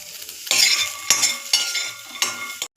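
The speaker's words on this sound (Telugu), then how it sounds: "కొంచెం పల్లీలు ఇట్లా పొట్టు ఊడిపోయే వరకు ఫ్రై చేసుకోవాలి" Peanuts and dry coconut dry-roasting in a pan for capsicum masala curry, with several bursts of rattling and scraping as a spatula stirs them, close and fairly loud, separated by brief pauses.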